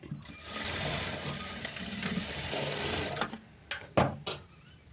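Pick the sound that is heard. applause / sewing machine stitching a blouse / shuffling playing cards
sewing machine stitching a blouse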